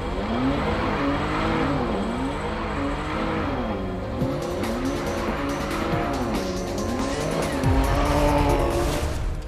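A Jaguar XE V6 is driven hard on the Navarra race circuit in northern Spain. The loud, close engine rises and drops through gear changes, with tyre squeal and skidding through the corners.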